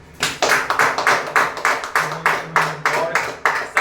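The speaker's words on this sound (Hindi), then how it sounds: "माननीय संजय कुमार शर्मा सर के लिए एक ताली" An audience claps for Sanjay Kumar Sharma in a steady rhythmic beat, about a dozen sharp claps in unison, close and fairly loud, with a faint voice briefly underneath.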